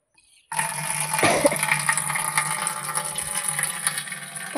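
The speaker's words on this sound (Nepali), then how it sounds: "म चाहिँ अब यहाँ पानी थाप्ने छु" Water runs steadily from a tap into a container in a village setting, a continuous loud gush starting abruptly after a brief quiet moment and holding without pause.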